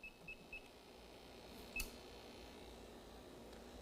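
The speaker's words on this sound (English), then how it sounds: "This will beep till it warms up and goes into a mode." A CO2 detector warming up in an air-conditioning training session gives three short, faint electronic beeps in quick succession, then one brief louder chirp, over a steady low room hum.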